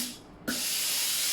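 A Philips GC9630 steam generator iron lets out a sudden burst of steam that becomes a loud, steady, close hiss, following a faint quieter hiss and a soft click just before it.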